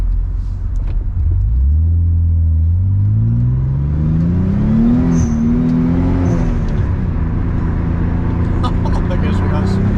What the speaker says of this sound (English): I think I might have flat spots on my tire now. With this strange sound.